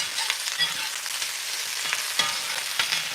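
Greens wilting in a hot pan with a little salt, frying with a steady close sizzle while being stirred, with scraping and clatter from the stirring breaking through now and then.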